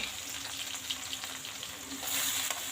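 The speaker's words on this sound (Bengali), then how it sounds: "এখন পেঁয়াজ দেব পেঁয়াজ দিয়ে ভালো করে ভেজে" Onion frying in oil with dried red chillies, a dense steady sizzle close by with light stirring, growing slightly louder near the end, no speech.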